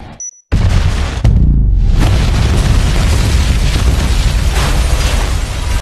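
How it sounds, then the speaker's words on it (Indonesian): A sudden loud blast erupts after a brief silence, followed by a sustained roaring rumble and debris noise that stays heavy and dense to the end. "tiba-tiba bom meledak"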